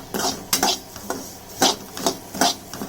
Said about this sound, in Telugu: ఇలా కొద్దిగా నెయ్యి యాడ్ చేసేసి మనం సేమియా వేసుకొని బాగా వేయించుకోవాలా